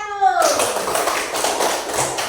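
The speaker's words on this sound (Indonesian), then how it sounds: "tepuk tangan untuk kelompok 1" A group of children clapping together in a steady, fairly loud patter right after a brief spoken word, filling the room.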